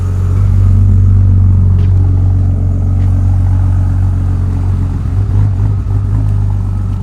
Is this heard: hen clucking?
no